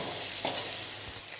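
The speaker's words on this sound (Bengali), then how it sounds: "আদা রসুনের পেস্টটা দিয়েও এর সঙ্গে ভালো করে একটু ভেজে নেব।" Onion frying in oil in a pan with ginger-garlic paste, a brief steady sizzle close by with a faint stir partway through.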